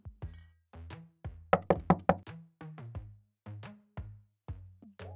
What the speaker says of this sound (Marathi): ते बघून त्याने हातानेच दार वाजवलं.